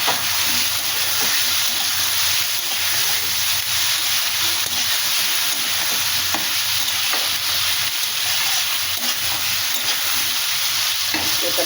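Elephant foot yam frying in spiced masala in a pan, a steady, close sizzle with soft stirring scrapes throughout.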